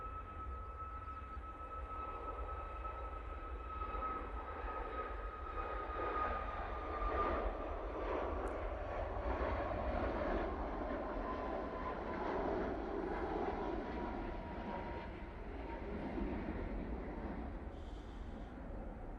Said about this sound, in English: Using 737 MAX 8 for that flight